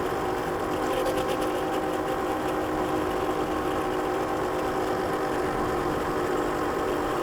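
Yozma IN 10 electric dirt bike with off-road tires riding on the road at around 32 miles an hour, giving a steady, loud motor whine with constant wind and road rush and no pauses.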